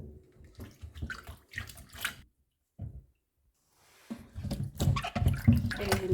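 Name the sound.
washing apples in water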